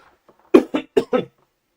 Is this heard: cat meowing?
no